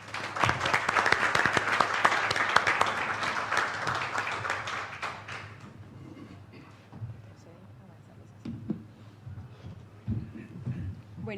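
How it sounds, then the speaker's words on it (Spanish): Audience applause welcoming a speaker at a tax-law panel session, a dense burst of clapping that fills the first five seconds and then thins out into scattered claps and room noise. "Recibamos con un fuerte aplauso a la Magister Lida Angélica Rodríguez Basso."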